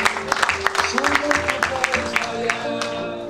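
Church congregation clapping for God during a worship service, a scattering of hand claps over sustained music tones and singing voices, moderately loud and continuous.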